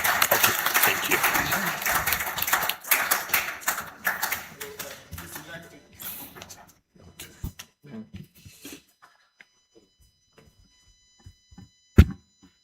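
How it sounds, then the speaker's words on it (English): Applause from a forum audience at a mining-sector event in Ghana, a dense burst of clapping that starts loud and thins out into scattered claps over several seconds, with a sharp single clap or thud near the end. "Please join me in applauding the panelists"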